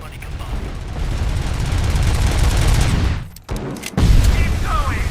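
In the RoboCop: Rogue City video game, a Cobra assault cannon fires a loud, dense barrage that cuts off briefly and then blasts again with heavy booming impacts, up close.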